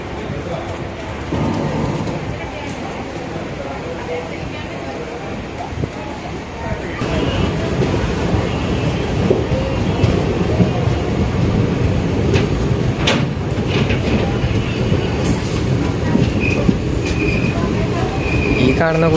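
Parshuram Express passenger train pulling away from Aluva, a steady loud rumble of wheels and carriages that swells as it gains speed, with rattles, clanks and faint squeals, heard from inside a coach.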